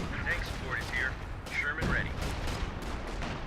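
Mortar and gunfire in a Company of Heroes 2 battle, heard as repeated distant bursts and dull thuds beneath a steady rumble of game noise.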